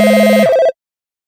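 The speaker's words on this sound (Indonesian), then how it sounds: "tiba-tiba telepon di meja itu bunyi." Desk telephone at a reception counter rings once, a sustained electronic warble with a low tone that cuts off about halfway, the whole ring stopping abruptly, close and loud.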